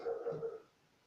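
A neighbour's dog barks a few quick, faint times in the distance, then falls quiet.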